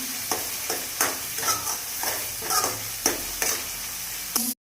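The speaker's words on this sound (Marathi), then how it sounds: "हळद, 2 चमचे लाल मिसळलेली चटणी टाकून मसाला चांगला भाजून घेणार आहोत आपण" Masala with turmeric and red chili chutney roasts for a black ghevda dal amti, sizzling steadily while a spoon scrapes through it in regular, close strokes.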